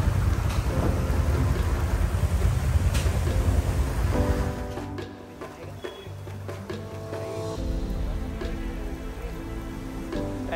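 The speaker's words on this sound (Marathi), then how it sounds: "खूप पाऊस आहे बघा." Heavy monsoon rain pours down steadily near Matheran, a dense close roar of drops with distant thunder, easing a little midway and then returning, with no talking.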